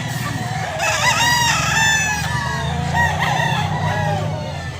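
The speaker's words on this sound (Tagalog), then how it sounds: "Mga quality na manok ni Bosapon" A gamecock crows loudly and repeatedly in rising harmonic calls, with other fowl clucking and crowing around it over a steady low hum.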